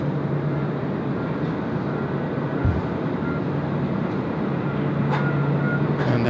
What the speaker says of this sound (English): There's another 777 just rolling past inbound from Okinawa as well